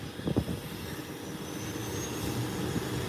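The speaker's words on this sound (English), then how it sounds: "And the ATR is on the runway." An ATR propeller airplane sits on the runway before takeoff, its engines giving a steady, distant droning rumble with a few faint thumps near the start.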